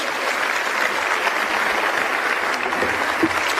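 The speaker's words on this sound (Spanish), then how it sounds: "Un fuerte aplauso para Tomás." Strong, steady audience applause rolls on without a break, dense clapping heard at moderate distance, with a faint voice near the end.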